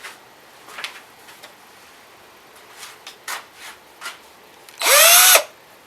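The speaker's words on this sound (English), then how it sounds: "You could put this in a drill too." A power drill whirs in one loud half-second burst, spinning up and winding down, after a few faint scattered taps and clicks.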